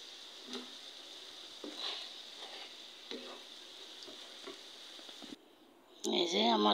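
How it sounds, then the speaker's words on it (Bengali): Meat pitha, a beef-filled Bengali pastry, deep frying in plenty of oil, with a steady close sizzle and crackle and brief stirring bumps, before a short quiet gap and then someone talking over it near the end. "বেশি করে তেল দিয়ে এই পিঠাটা ভাজা এভাবে"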